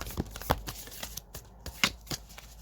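Tarot cards are shuffled by hand for a reading, giving a series of crisp, close snaps and riffles in irregular bursts with brief pauses in between.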